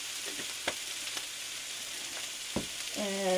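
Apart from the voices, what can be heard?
sausage and peppers frying in a pan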